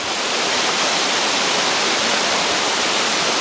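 A small waterfall spills over a rock ledge, making a continuous, full-bodied rush of white water that stays steady and close with no voices.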